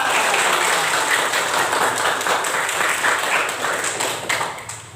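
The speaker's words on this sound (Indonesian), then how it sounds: "Tepuk tangan dulu kita semua." A group of children clap their hands together in a steady, dense burst of applause that carries on for several seconds, tapering slightly near the end.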